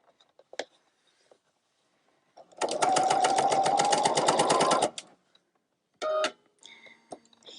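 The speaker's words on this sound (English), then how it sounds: "I want to sew the open end first." A sewing machine stitches the open end of a fabric tote bag in a loud, close burst of rapid whirring lasting about two seconds, then a shorter run after a pause, amid faint handling clicks.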